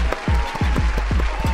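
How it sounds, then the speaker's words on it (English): One person clapping hands about a dozen times in a quick, fairly even rhythm, close and crisp. "Let's get a round of applause."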